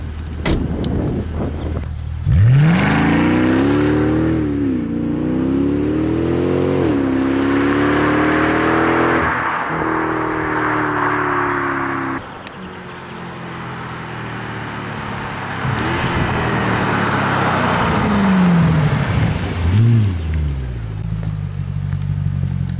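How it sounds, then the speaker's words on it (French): A Mercedes C63 AMG accelerates repeatedly outside the car, its loud engine note rising in pitch through several revving pulls and gear changes, with a short quieter gap midway before another strong pass. "On va vous faire écouter les accélérations depuis l'extérieur du véhicule."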